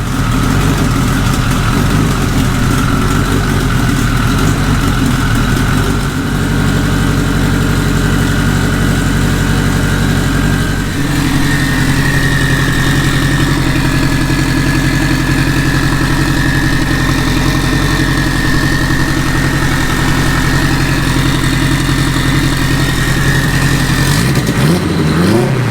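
A Honda Civic EG hatchback with an AWD K-series engine runs loud and close, holding a steady idle, then rising in pitch as it revs, then shutting off abruptly at the end.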